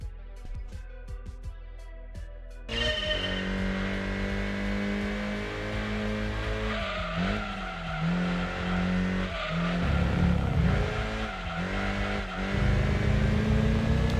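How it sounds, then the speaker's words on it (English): A Nissan Silvia Spec R Aero, front-engined and rear-drive with 244 bhp, roars through Gran Turismo 2 on PS1 as a steady loud engine drone with rising and falling revs through gear changes and brief tire squeals, following a quieter menu-like opening. "this time is a Nissan Silvia Spec R Aero with front engine rear drive, 244 brake horsepower"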